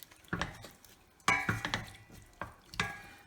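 Spoon stirring sugar, prunes and raisins in a pot of Algerian lahm lahlou: several distinct scraping clinks against the pot in uneven bursts, close and fairly quiet, no talk.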